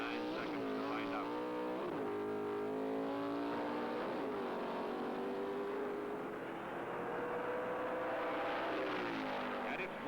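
Pro Stock drag racing cars scream past in a continuous loud roar, the engine pitch rising and falling with revs under a talking voice.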